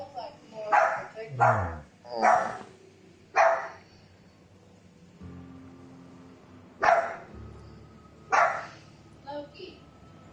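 A dog named Loki barks in short repeated bursts, about six loud yelps spread across several seconds with gaps between them, while a person speaks briefly nearby; the setting is the video game The Outer Worlds.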